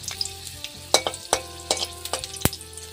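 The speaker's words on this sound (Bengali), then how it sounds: "তেল গরম হয়ে গেছে, আমি রসুনটা দিয়ে দিলাম" Garlic dropped into hot mustard oil in a kadai, crackling and sizzling close up with repeated sharp pops and spatters over a steady hiss, no voices.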